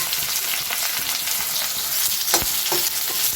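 Onions sizzle and fry in hot oil on a home stove while Assamese mutton curry is being cooked, a steady close crackling hiss with occasional stirring scrapes and no voices.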